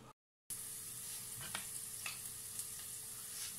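A vegetable sofrito with garlic fries in a pan, giving a steady soft sizzle with a few brief louder crackles and no talking, after a short silent gap at the start.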